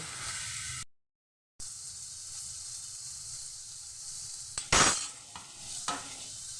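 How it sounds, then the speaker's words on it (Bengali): Hot boiled dal poured into a pan with fried ginger, a soft steady sizzle broken by a brief silence, then a louder splash and stirring bursts near the end, close and without speech. "এবার আমি এই ডালটাকে সম্পূর্ণ ডালটাকে ঢেলে দিলাম।"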